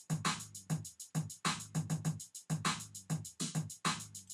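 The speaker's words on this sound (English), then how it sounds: "In pattern 1 we made the basic drum kit of the beat." Basic drum kit pattern for a Dirty South beat: punchy kicks and crisp snare or clap hits in a steady, repeating groove with a low bass line underneath, loud and close with no voices.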